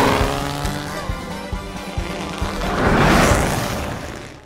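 Race car Doc Hudson from the Cars cartoon drifts through a sharp turn: a loud roaring engine with rhythmic bumps swells into a broad hissing tire skid that peaks midway and then tapers off.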